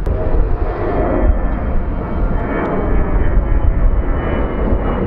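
A loud, broadband roar of an airplane engine fills the air close by at the far end of a runway, steady and rumbling without pause, with no talking.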